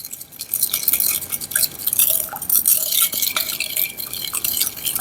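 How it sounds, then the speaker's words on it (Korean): Mustard sauce with sugar, salt and vinegar is stirred and rubbed in a bowl, making a continuous close scraping and clinking swish with no voices. "잘 문질러 가면서 덩어리지지 않게끔"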